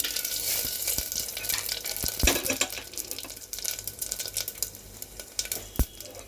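Whole tempering spices frying in ghee over low gas for lentil dal: a crackling sizzle with frequent sharp pops and spits and a few louder bursts, close and moderately loud with no voices.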